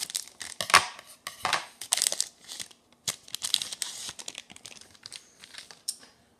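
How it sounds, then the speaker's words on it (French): Scissors cutting open Dragon Ball IC Carddass card booster packs, giving close, crisp crinkling and tearing of the foil wrappers in short irregular bursts and snips with brief pauses, and no talking. "je vais quand même ouvrir 5 boosters au ciseau histoire de les conserver"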